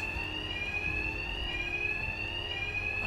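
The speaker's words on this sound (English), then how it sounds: "My attacks will be covered by the noise of the alarm." An alarm rings in Batman Arkham Knight, a continuous high electronic fire-alarm tone sounding steadily and loudly throughout, with no talk over it.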